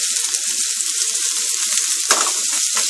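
Onions and garlic hit smoking-hot oil in a pan and set off a loud, dense sizzle that stays close and constant, with a brief surge near the end and no talking.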